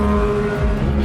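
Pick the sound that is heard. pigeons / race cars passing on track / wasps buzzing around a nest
race cars passing on track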